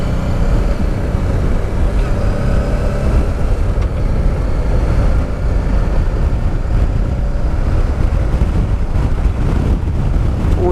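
Wind roaring over a motorcyclist riding across Col du Lautaret in the mountains, a loud continuous low rumble of buffeting wind noise mixed with the engine, steady throughout.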